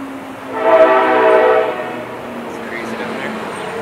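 A train horn blares loudly for about a second over a passing train's rumble, then fades into the continuing roar of the rail traffic.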